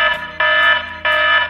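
An E-ZIP anti-theft backpack sounds its alarm as the bag's zip is opened: two loud, bright electronic beeping bursts, each near and alone, separated by a short gap.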